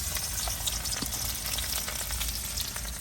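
Chopped onion frying in oil for a Bengali fish and cauliflower curry, a steady close sizzle and crackle holding evenly throughout with no talking over it.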